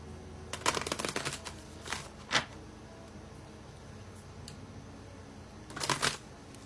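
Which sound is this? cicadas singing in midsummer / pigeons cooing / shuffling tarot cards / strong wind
shuffling tarot cards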